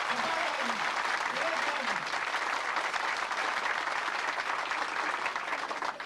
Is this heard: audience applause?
yes